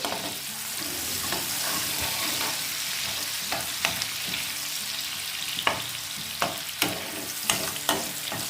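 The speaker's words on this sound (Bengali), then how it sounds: "দেখো পেঁয়াজগুলো ব্রাউন হয়ে গেছে, আমার বেরেস্তা তৈরি করা হয়েও গেল।" Onions frying in oil until brown to make crispy beresta for chicken biryani, a steady close sizzle with occasional sharp crackles and spatters growing more frequent toward the end, no voices.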